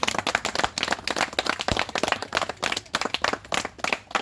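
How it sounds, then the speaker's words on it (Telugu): Dense, continuous clapping from an audience at a laddu auction in Ongole, loud and steady with crisp overlapping claps throughout. "క్లాప్స్ అయినాయి అందరూ."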